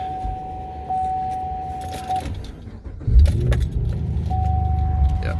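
Keys jangle and a chime sounds inside a 2010 fifth-generation Chevrolet Camaro before the engine cranks and catches, settling into a low, steady idle close by.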